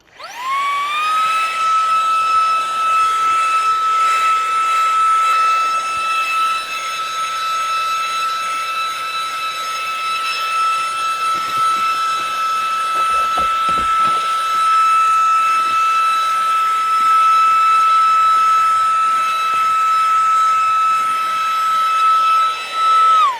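A SEESII 3-in-1 portable tire inflator runs in vacuum mode, giving a loud, steady high-pitched motor whine with a strong constant tone that holds nearly unchanged for over twenty seconds, starting and stopping abruptly.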